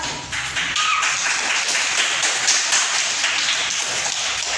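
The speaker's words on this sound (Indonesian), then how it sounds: "Kita beri aplaus." A classroom audience applauds: a dense, steady patter of many hands clapping together, fairly close and continuous with no talking.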